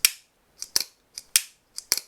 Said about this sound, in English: you can just deploy this knife by pulling down the axis lock and having the blade,